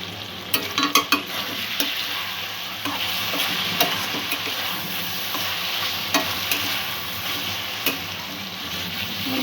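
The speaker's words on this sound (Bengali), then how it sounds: "উপকরণগুলো ভালো করে মিক্স করে দেবো, সমস্ত মশলাগুলো।" Spices frying and being stirred in a pan for a Bombay duck (loitta) fish curry, with a steady sizzle and repeated scrapes and clicks of a spoon against the pan, close and continuous, with no voices.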